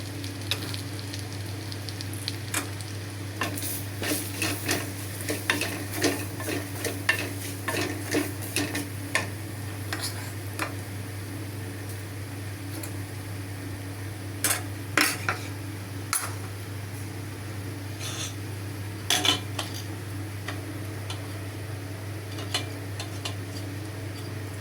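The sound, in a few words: semolina frying in ghee, stirred in pan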